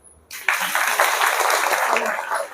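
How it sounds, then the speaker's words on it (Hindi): An audience at a Brahma Kumaris spiritual talk in Gamdevi, Mumbai bursts into dense, even clapping that starts suddenly and holds steady at close range until the end. "ताली तो बजाओ।"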